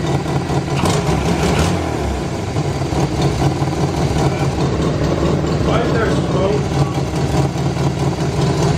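Car engine starting and revving with a leaking exhaust gasket, giving a loud, raspy, continuous engine roar close to the microphone, while people talk over it.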